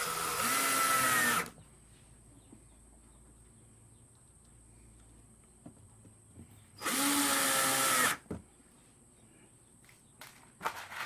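A power drill drives screws into a solar cooker in two loud whirring bursts of a second or two each, separated by a quiet stretch with faint handling clicks and knocks.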